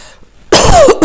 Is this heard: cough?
yes